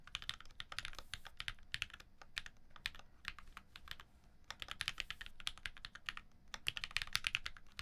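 Rapid, steady typing on a computer keyboard during a game stream, close and continuous clacking keystrokes with soft background sound underneath.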